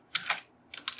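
Two short bursts of rapid keystrokes on a computer keyboard, close and fairly quiet, separated by a brief pause, as text is written for a worldbuilding piece about gods and pantheons.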